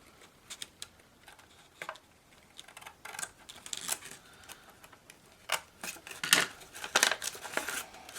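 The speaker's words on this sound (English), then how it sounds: "Some of the corner pieces are folded, and I just cut those." Scissors snip through folded paper corner pieces of a Halloween treat bag, a string of close, crisp cuts and light paper rustles in uneven bursts, with no talking.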